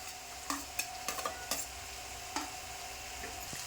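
Green chili paste and chopped garlic frying in a pan, with a steady low sizzle broken by several sharp clinks and scrapes of a stirring spoon against the metal, close and moderately loud with no voices.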